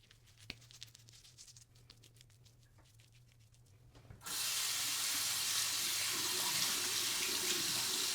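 Tap water runs steadily into a sink while washing up between shaving passes, starting suddenly partway through as a loud, constant hissing splash after a quieter stretch with faint clicks and handling.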